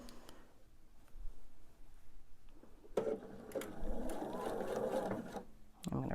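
Sewing machine stitching quilt blocks, a short burst early on then a sustained whirring run of needle chatter for about three seconds, close but moderate in level, with a brief click as it stops.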